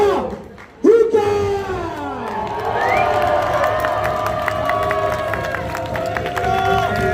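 A live wrestling crowd at an indoor show cheers and shouts for wrestler Noé Haouka, loud whoops and yells rising after a brief lull and holding steady, with scattered clapping underneath.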